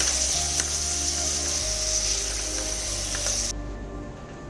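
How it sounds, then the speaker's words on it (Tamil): Ingredients for nombu kanji sauté in a pan over medium-low heat, giving a constant close sizzle with faint stirring scrapes that drops off near the end. "இப்போ வதங்கிட்டு இருக்கா."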